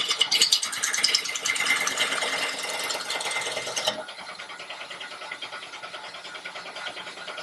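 A wood lathe turns a green wood bowl blank with shavings spraying onto the camera, a dense continuous rattling patter that drops slightly in intensity partway through, close and steady.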